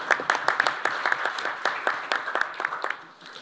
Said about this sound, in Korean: 우리 국민은 국회에게, 국회는 국민에게 박수 한번 치고 시작합시다.